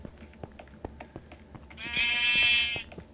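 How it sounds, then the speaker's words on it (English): Sheep bleating in a survival video game, a single loud wavering bleat of about a second, preceded by soft tapping footsteps and clicks. "that's sheep"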